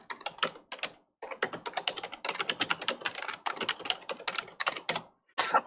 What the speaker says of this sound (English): I can hear him typing and stuff